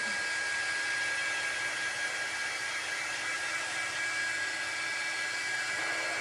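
Handheld dryer blowing on a layer of chalk paste during a Home Depot upcycle project, a loud, steady, even whoosh of air close by that holds without a break.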